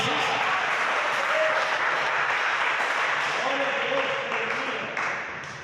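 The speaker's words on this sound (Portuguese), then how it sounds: "A igreja pode bater as palmas para Jesus" Sustained clapping from a church congregation at a Portuguese-language service fills the room, dense and even throughout, with faint voices mixed in before it tapers slightly at the end.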